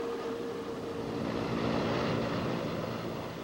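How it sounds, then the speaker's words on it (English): A helicopter lifts off and pulls away into the sky, giving a steady broadband engine and rotor rumble that swells slightly and then holds at moderate loudness. "The helicopter pulled away into the sky."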